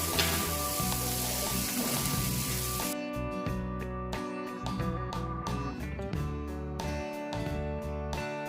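Homemade potato smileys frying in hot oil, a dense, steady sizzle and bubbling crackle throughout, loud and close with no voices.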